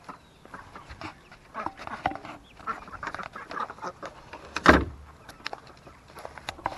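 Scattered quacks and rustling from a group of ducks, with one sharp bump partway through, fairly quiet overall.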